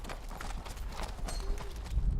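A ridden horse's hooves clip-clop in a quick, even rhythm, close by and clear, with faint voices in the background.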